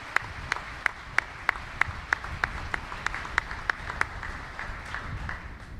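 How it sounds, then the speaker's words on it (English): Audience applause at a U.S. Indo-Pacific Command change of command ceremony, a steady patter of many hands with a few sharp, regular claps standing out near the microphone, moderately quiet throughout. "Let's give her another round of applause."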